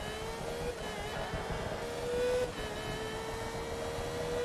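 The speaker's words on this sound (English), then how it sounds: "Oh, this engine sounds good." Race car engine at Sebring in the video game Forza Motorsport 2, a steady faint droning hum with a slight swell midway, continuous and alone.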